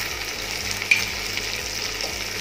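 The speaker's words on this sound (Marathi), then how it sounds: "आणि हे व्यवस्थित असं परतून घ्यायचं" Spices with curry leaves, coriander, asafoetida and turmeric sautéing in a pan for a traditional ambade vegetable dish, giving a steady low sizzle with one faint clink of stirring, no voices.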